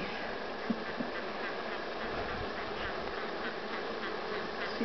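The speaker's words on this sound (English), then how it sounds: "Along with a million pissed off bees." Angry honey bees swarm around an opened hive during an inspection, a dense continuous buzzing drone that fills the scene at close range, with no talking.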